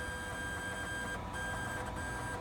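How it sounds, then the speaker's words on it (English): A 3D printer's stepper motor drives the bed upward toward the nozzle with a steady, tonal electric whine and hum, close and even, with a couple of brief dips, no talking. "raise the bed until the nozzle touches the printing surface"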